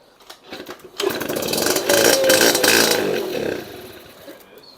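A Honda Express SR moped with a suspected reed or carburetor fuel-delivery fault sputters, then catches and runs with a buzzy, uneven two-stroke drone that swells and fades, close by.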